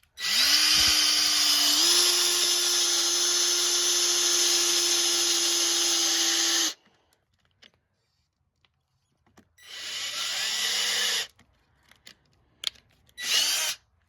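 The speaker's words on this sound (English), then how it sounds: "this drill keeps on bogging out" A RIDGID 18V cordless hammer drill (R860012) whines loudly at steady speed for several seconds, then stops; it starts again and strains, its pitch sagging as it bogs down, with clicks between.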